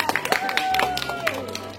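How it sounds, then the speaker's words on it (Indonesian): Scattered clapping from a small group in a high school class mixes with talking voices, the claps uneven and fading toward the end. "Tepuk tangan."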